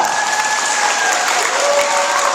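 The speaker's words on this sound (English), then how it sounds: "Give yourselves a big round of applause." A school assembly audience applauds loudly and continuously, a dense wash of many hands clapping together that fills the room for a couple of seconds.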